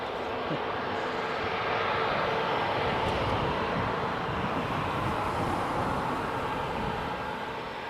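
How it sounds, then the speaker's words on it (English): A Boeing 737 airliner at Leeds Bradford Airport gives off a continuous, broad jet engine roar, steady and fairly close, holding its loudness from start to finish with no voices. "Big 737 versus little baby 737."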